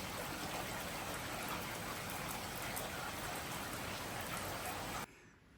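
Steady outdoor rain hisses evenly and fairly loud on a wet morning before a running race, with no voices, then cuts off abruptly near the end.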